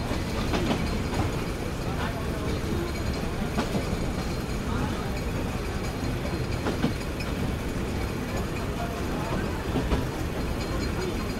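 The Sundarban Express, on its Dhaka to Khulna run, rolls steadily into Noapara. A continuous rumble of carriages fills the scene, with faint rail clicks throughout and no clear talk over it.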